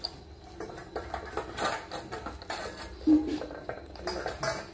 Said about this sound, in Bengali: বাটি একদম চেটে ফুটে সাফ করবে ভুতু।